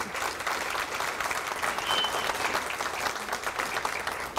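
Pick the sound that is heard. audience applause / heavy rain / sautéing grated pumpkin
audience applause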